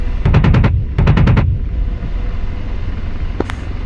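Nose cannon of an AH-64 Apache attack helicopter firing in DCS 2.7: two close, loud bursts of rapid rounds, about five each, followed by a low engine drone and a faint sharp crack near the end.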